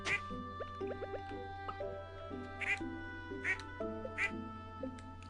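Ducks in the Stardew Valley farming game quack repeatedly in short bright bursts over steady game music, a handful of calls spaced through the scene.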